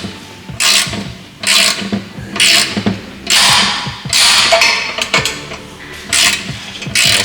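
A socket is tightened by hand to press a rear frame bushing through a Honda Ruckus frame, making loud, close bursts of ratcheting and grinding metal, one after another in steady strokes with short pauses between them.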